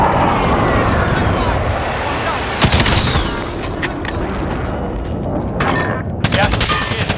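Rapid gunfire in the Warzone video game, dense bursts and shots crackling loudly over a constant battle din, with a voice speaking over parts of it.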